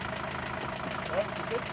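An Isuzu NPR diesel truck that sat for eleven years idles in a yard, a steady low, rough engine drone heard up close for a short moment.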